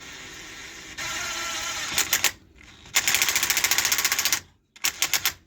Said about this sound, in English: So whatever yours is, you put the gun low speed.